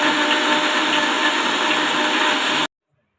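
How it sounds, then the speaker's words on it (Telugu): A mixer grinder whirs steadily, blending banana milkshake with almonds, a loud, even motor drone that runs alone for about two and a half seconds before cutting off abruptly into silence. "మిక్సీ పట్టేసుకుంటాం."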